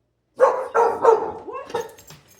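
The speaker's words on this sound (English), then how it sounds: "You heard your neighbor's dog barking." A neighbor's dog barks in a quick run of loud, close woofs, four or five sharp barks with short gaps, then a few softer trailing yips and whines.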